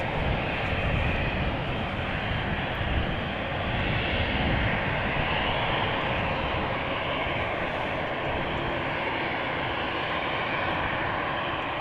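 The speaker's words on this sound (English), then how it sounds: "we will see the departure of a KLM Embraer 190 to Aalborg" A KLM Embraer 190 bound for Aalborg departs from Amsterdam Schiphol, its engines a steady, broad roar that holds an even level throughout with no voices.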